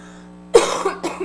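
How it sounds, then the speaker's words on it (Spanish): A deep, chesty cough from a head cold bursts out once, followed by a shorter second cough, close and loud over a faint steady hum. "tengo un catarro ahí con una tos cavernosa horrorosa."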